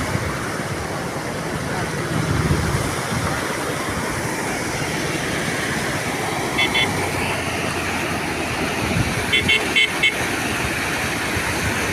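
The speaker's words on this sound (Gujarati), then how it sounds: "તો મિત્રો વાહન અવર જવર કરે છે" Vehicles pass along a road beside the flooded, bank-full Malan river at Mahuva, a steady roar of traffic and rushing noise with a couple of short horn toots near the middle and end.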